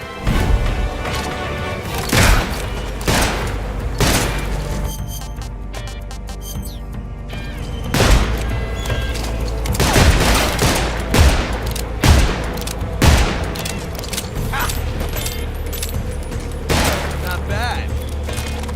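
Gunfire in Metal Gear Solid Delta: Snake Eater, sharp single shots and short bursts spaced irregularly over the length, with a tense game backdrop and a brief spoken remark.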